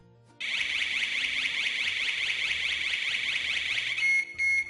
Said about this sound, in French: le bouton en bas à droite, dit bouton SOS, déclenche la sirène à tout moment